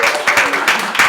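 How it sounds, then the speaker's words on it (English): Audience at an education training event clapping for a colleague, a brief burst of dense, close applause that swells in waves. "Elise Lonsdale, official, big clap for Elise Lonsdale."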